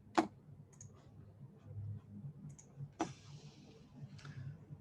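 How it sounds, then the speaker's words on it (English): Two sharp, isolated clicks of a computer mouse, one at the very start and another about three seconds later, close and clear over a quiet room hum with no talking. "Actually, I might just click back here."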